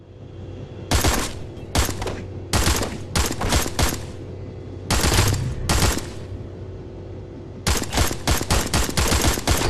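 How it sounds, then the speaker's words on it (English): Bursts of rapid automatic gunfire from a shooting tutorial in the video game Hybrid, loud and close, firing in several sharp volleys of different lengths with short pauses between them over a steady low hum. "Aim down your sights and take out those enemies across from you."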